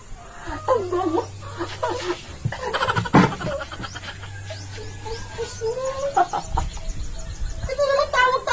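A chicken clucks and squawks in short agitated bursts while being grabbed and caught, with people talking throughout and a low engine hum underneath.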